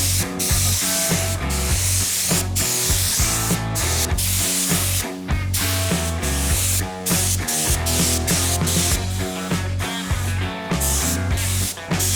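Spray gun applying air-cure lacquer to a tuk tuk body, loud close hissing bursts starting and stopping in an irregular rhythm, no voices.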